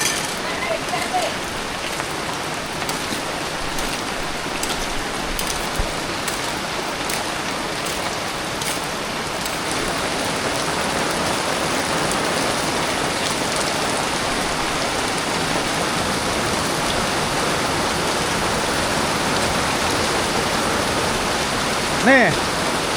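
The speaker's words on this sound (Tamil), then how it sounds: "மழையும் வருது" A downpour of heavy rain drums steadily on nearby surfaces, a continuous wash of patter that thickens midway, with faint voices murmuring in the background.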